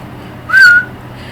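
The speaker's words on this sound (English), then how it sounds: "I'm whistling" A single short whistled note, rising slightly then holding steady, loud and alone against a quiet room hum, lasting about a third of a second.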